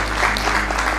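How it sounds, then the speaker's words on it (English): Applause from a seated audience at a book launch, a steady dense clapping sustained throughout the short moment without a break. "A round of applause"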